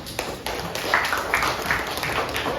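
A classroom audience claps for a student during guided teaching practice: a steady patter of many hands, fairly close and moderately loud, with voices faintly mixed in.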